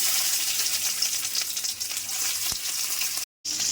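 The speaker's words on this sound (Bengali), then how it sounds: "কাঁকরোলগুলো ভেজে নিচ্ছি" Spiny gourd pieces seasoned with salt, chilli powder and turmeric fry in mustard oil in a wok, a loud, even close sizzle that runs steadily with one faint tap and a brief gap near the end.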